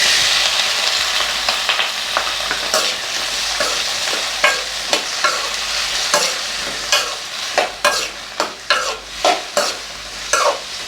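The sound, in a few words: chopped tomatoes frying in a pan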